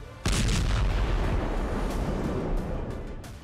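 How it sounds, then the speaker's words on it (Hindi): Israeli tank shelling strikes a Hamas weapons depot in Gaza, a sudden heavy boom followed by sustained rumbling roar and crackling debris, loud and close with no voices. "इजरायली टैंकों ने हमास के वेपन डिपो पर शेलिंग की है।"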